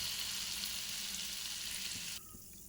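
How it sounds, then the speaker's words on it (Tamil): Boondi batter drops for motichoor laddu sizzling and frying in hot oil, a loud steady crackling hiss that drops off sharply near the end. "இப்படி எல்லாத்தையும் பொரிச்சு எடுத்துக்கலாம்"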